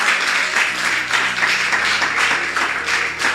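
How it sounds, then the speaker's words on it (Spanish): Church congregation applauding steadily, a dense continuous wash of many hands clapping at fairly close range for the whole stretch, with no pauses. "le vamos a dar un fuerte aplauso, iglesia"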